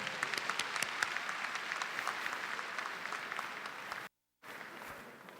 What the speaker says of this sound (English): Let's give Dr. Williams another round of applause.